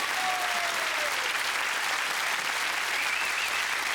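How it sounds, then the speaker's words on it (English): Audience giving a round of applause to a volunteer at a live show, dense steady clapping filling the whole moment with a faint whistle. "give him a round of applause"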